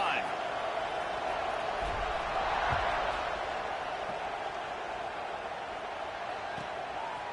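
A football stadium crowd at an Oregon versus Oregon State game roars steadily before kickoff, a dense, continuous wash of cheering and chatter that holds at an even level throughout.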